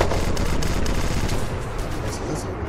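Rapid auto cannon fire in the online shooter Red Crucible: Firestorm, a dense, loud, continuous stream of heavy rounds filling the whole burst.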